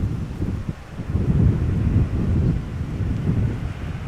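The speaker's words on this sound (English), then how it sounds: "There's quite a bit of wind actually." Strong northeast wind at Amsterdam Schiphol Airport beside a runway buffets the microphone, a loud low rumbling roar that swells and eases in gusts without pause.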